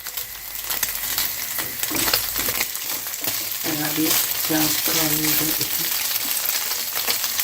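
Steady sizzling of meat frying in a spoonful of butter in a pan, with stirring scrapes and a voice talking briefly underneath.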